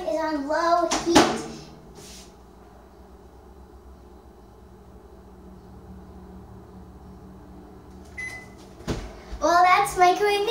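A microwave oven heating coffee with milk on low power: a steady, faint electric hum runs for several seconds, framed by a beep and door clatter, with someone talking before and after.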